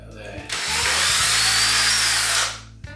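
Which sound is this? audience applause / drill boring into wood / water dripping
drill boring into wood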